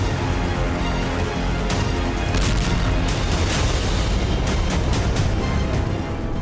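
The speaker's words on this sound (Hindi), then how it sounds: "इस धमाके की तीव्रता को समझने के लिए एक बार फिर विस्फोट को देखिए।" FAB glide bomb blast in the Russia-Ukraine war, Kharkiv front: a loud, sustained roaring rumble of explosion and debris lasting throughout, with repeated sharper cracks and bursts layered over the continuous heavy noise.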